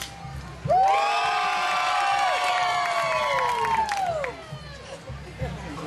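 A crowd at a mud show gives a loud, sustained cheer with many overlapping shouting voices, rising sharply and holding for over three seconds before fading into scattered shouts and claps.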